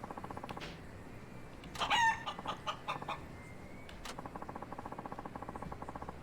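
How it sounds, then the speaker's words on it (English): A video-game chicken in a Nagoya substory clucks and squawks in a loud, sharp burst, followed by scattered clucks over a steady background ticking. "It's a chicken!"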